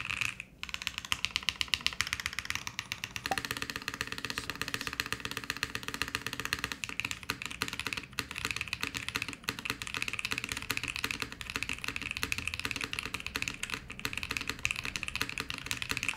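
Steady, quick typing on a Bauer Lite prototype mechanical keyboard, dense clacky keystrokes in an unbroken run at close range, with no voices.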